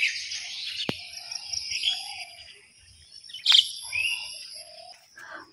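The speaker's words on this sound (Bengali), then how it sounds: "সকালবেলার সবচেয়ে মনোমুগ্ধকর শব্দ হচ্ছে পাখির কিচিরমিচির ডাক" Several birds chirp and call in the morning, with bright, sparse tweets and a couple of sharper, louder calls against an otherwise quiet background.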